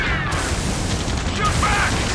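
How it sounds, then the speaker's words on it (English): Gunfire and explosions in the video game Ace Combat 7, a dense, loud, continuous roar of booming blasts and crackling shots packed into about two seconds, with shouted voices under the din. "Taking fire! We're pinned down!"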